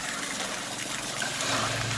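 RV cold water tub faucet running pink antifreeze during winterization, a steady, close rush of flowing liquid with a slight gurgle, continuous and fairly loud.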